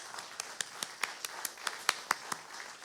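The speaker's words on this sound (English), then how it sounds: "Let's give her a round of applause." A small audience at a town hall meeting gives a sparse round of applause for a departing team member, with a dozen or so distinct claps at an uneven pace, fairly close and with no talk over them.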